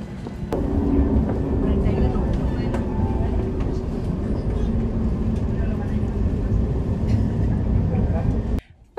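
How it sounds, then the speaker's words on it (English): Onboard a tram in Zaragoza, a continuous low rumble of wheels and motor with occasional clunks and rattles, voices faintly underneath, cutting out near the end. "Well, it was a nice experience in the tram."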